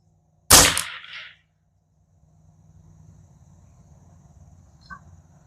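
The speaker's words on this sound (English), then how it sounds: "I think that might have been 6 shots" Custom Ruger 10/22 rifle firing a single sharp, close crack with a short tail, followed by quiet low background rumble and a faint click.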